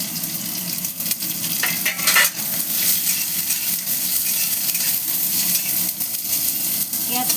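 Chopped onions frying in a pan for goat meat curry, a steady close sizzle with clinks and stirring of utensils against the pan, continuous throughout with no talk.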